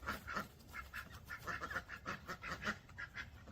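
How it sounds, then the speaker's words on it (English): Ducks quack repeatedly in quick, uneven bursts, moderately close, living alongside dogs; the calls overlap in a busy, continuous chatter with no talking. "Ducks are not afraid of the dogs, and the dogs aren't afraid of them."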